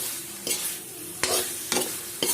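Fiddlehead ferns frying in a pan on a low gas flame, a soft continuous sizzle broken by four sharp stirring scrapes of a spoon against the pan.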